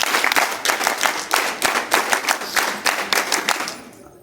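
Rhythmic unison clapping by NCC cadets on stage at a national integration camp closing ceremony, about a dozen loud, crisp group claps in steady time that fade away at the end.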